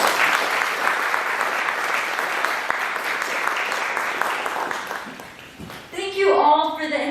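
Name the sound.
audience applause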